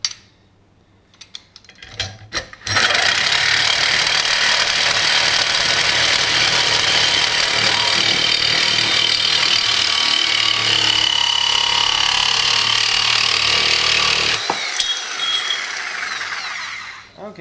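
A Diablo carbide tooth blade in a reciprocating saw cuts through wood, a loud continuous rasping buzz running about twelve seconds after a few short starts, then stopping abruptly, with faint handling noise after.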